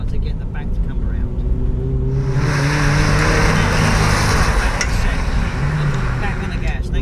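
A two-wheel-drive Mitsubishi Lancer stage rally car engine drones loud and close at steady high revs, its pitch shifting midway as throttle is fed in, with a voice talking over it.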